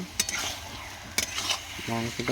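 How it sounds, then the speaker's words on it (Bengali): Meat with spices is stirred in a hot pan, a spoon scraping and clattering over a steady sizzle, with a few sharp knocks and a brief voice near the end. "মাংসটাকে এখন নাড়তে হবে ভালো করে। নেড়ে এটাকে এখন কষাতে হবে হালকা হালকা করে।"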